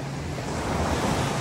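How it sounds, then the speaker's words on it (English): Waves break and wash ashore at high tide on a Barbados beach near Holetown, a continuous roaring surf with wind buffeting the microphone, swelling slightly toward the end. "I think there's more wave action because the tide is coming in."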